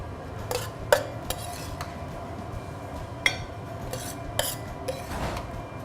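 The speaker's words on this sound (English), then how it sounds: "I'm going to add the roasted garlic butter and just toss it until it's nice and melted." Gnocchi tossed with roasted garlic butter in a pan: scattered metallic clinks and scrapes of utensils against the pan over a low background sizzle, with a few sharper knocks spaced irregularly.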